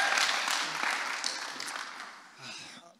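A youth camp audience cheers and applauds in a steady wash of clapping and whoops that holds for a few seconds and then fades, with a few voices rising over the crowd.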